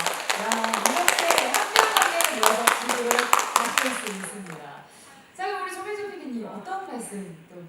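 Audience claps at an environmental talk show in Gyeongju, a burst of scattered, fairly close applause running beneath a speaking voice for about four seconds before it dies away and the talk continues alone.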